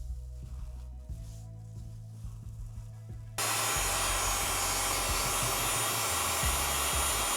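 A heat gun, quiet at first, switches on midway and blows a loud, steady, broadband roar as it shrinks heat-shrink tubing over wiring for ATV off-road lights.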